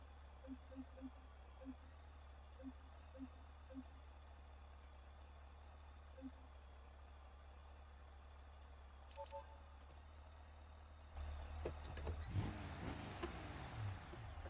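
A Moonhawk car in a video game idles with a steady low engine drone and faint repeated beeps, then revs louder and rougher toward the end.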